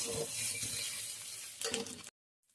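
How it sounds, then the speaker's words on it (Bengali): Garlic paste frying with onions in a pan gives a close, dense sizzle with a few stirring clinks, steady for about two seconds before cutting off abruptly to near silence, with a faint trace afterward. "এবার আমরা রসুন বাটাটাকে দিয়ে দেব। এবার এটাকেও আমরা ভালো করে ভেজে নিচ্ছি।"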